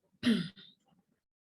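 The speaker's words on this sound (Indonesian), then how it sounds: "Saya kok batuk." A lecturer makes one short, gruff throat-clearing cough followed by a softer trailing rasp, close and alone in a quiet room.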